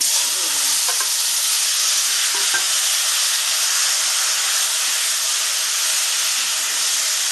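Pumpkin and chickpea curry going into spluttering panch phoron in hot oil gives a loud, even hissing sizzle throughout, with faint clinks near the start and no voices.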